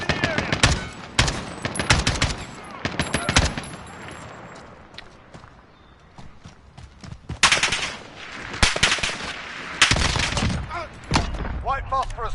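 Bursts of gunfire from an in-game rifle in Call of Duty Modern Warfare, switched to semi-auto: loud, rapid cracks come in clusters with a short lull between them, and radio-style voices and game effects sit underneath.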